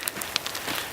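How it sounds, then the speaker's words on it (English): Hail coming down during a mountain hike on a snowy pass, a constant pattering hiss broken by a few sharper ticks of pellets striking nearby, heard alone with no talk. "and here comes the hail."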